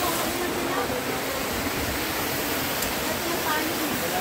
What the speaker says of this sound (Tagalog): Lakas ng tubig, no?